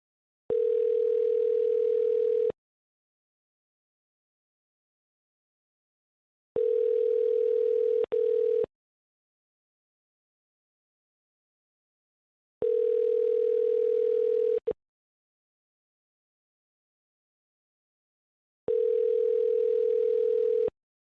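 Telephone line while calling a car dealership: four identical steady electronic tones, each about two seconds long, repeating at regular intervals with dead silence between, clean and close.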